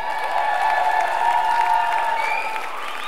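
Audience applause and cheering for a performer at a CD release concert, a dense sustained wash of clapping with shouts and whoops on top, loud and continuous.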